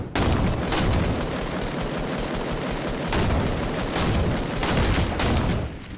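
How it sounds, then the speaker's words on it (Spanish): Gunfire in a video game rings out in dense, rapid bursts that keep going for the whole stretch, loud and close, with no talking over it. "Es que oigo muchos tiros,"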